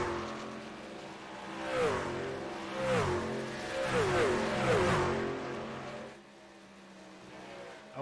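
Stock race cars roar by at Pocono in a truck-series race, engines rising and falling in pitch as several pass side by side close to the mic, with steady engine drone and a commentator talking over it.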